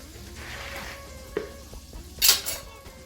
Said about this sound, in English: The shrimp is still frying.